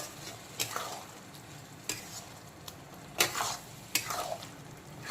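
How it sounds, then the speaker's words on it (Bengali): Masala for Kashmiri-style chicken rogan josh frying in oil over low-to-medium heat: a soft, continuous sizzle with a handful of spaced spoon scrapes against the pan, quiet and without voices. "এই পুরো মশলাটাকে ভালো করে কষিয়ে একেবারে মশলার চারদিক থেকে তেল ছাড়া পর্যন্ত কষিয়ে ভাজা ভাজা করে নিতে হবে"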